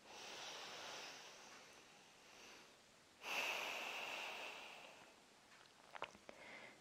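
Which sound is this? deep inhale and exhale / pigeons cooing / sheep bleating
deep inhale and exhale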